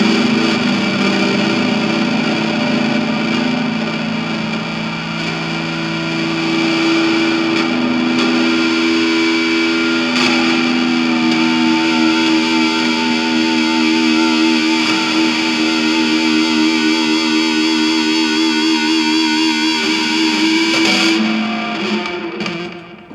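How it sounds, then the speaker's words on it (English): Electric guitar feedback pushed through distortion and other effects, loud sustained howling tones that swell and shift pitch over a long stretch before cutting off abruptly at the end, with no voices. "So that last one's probably the best to try and recreate that feedback tone I got initially."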